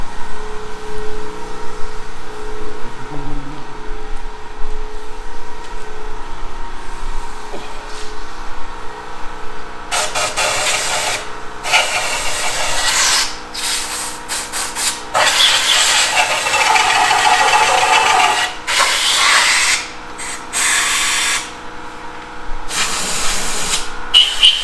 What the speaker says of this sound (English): Better turn the compressor on then.